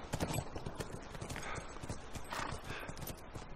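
In the video game The Last of Us, rapid hooves clip-clop in a steady rhythm, close and clear, with a brief horse whinny near the start.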